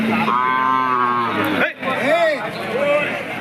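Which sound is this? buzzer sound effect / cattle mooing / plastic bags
cattle mooing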